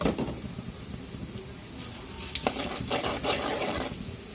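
Onions frying lightly in a pan for a potato fry, a steady soft sizzle and crackle running throughout with occasional brief spatters and stirring clatter.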